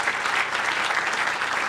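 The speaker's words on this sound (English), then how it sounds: "let's give them a round of applause for this wonderful program." Steady, dense applause from an audience at the opening ceremony of the 2014 Franklin Project Summit in Gettysburg, a short unbroken burst of many hands clapping at once.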